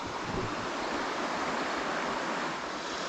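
Steady rushing water of the Pequea Creek flows without pause, a dense broadband wash like a creek running over rocks, with some wind noise mixed in.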